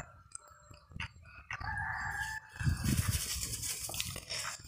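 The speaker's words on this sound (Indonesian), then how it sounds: "ayam ini ketakutan yang bawa plastik ini" Frightened chickens cluck and a rooster crows nearby, with rustling and scattered farmyard noise around them.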